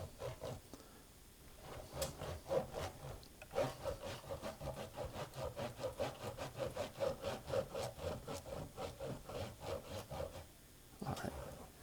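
A guitar fingerboard is rubbed with Dunlop Fingerboard 01 cleaner, a cloth scrubbing back and forth in a steady, fast rhythm of soft, close strokes for around ten seconds, with a few brief pauses.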